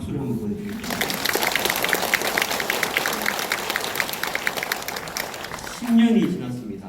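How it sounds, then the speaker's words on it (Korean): An audience at a Catholic diocesan gathering in Incheon applauds Pope Francis with steady, dense clapping for about five seconds, while a voice talks at the start and end. "한번 프란치스코 교황님에게 박수를 한번 보내드리겠습니다."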